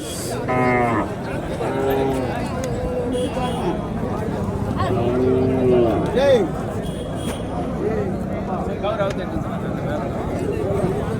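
Cattle lowing at a native-breed cattle market in Madrapalli, where cows are sold with their calves, with several moos standing out over steady crowd chatter and nearby talk.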